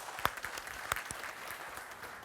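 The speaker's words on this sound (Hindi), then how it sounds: "उनके अभिनंदन में तालियां बजा दें।" Audience applause at a media interview event, a short burst of scattered clapping at moderate distance, fairly faint and thinning out quickly.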